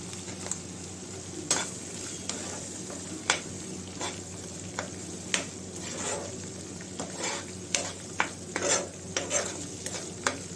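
Spices frying in hot oil in a pan, a steady sizzle under repeated sharp scrapes and clinks of a spatula stirring against the metal, up close with no talk.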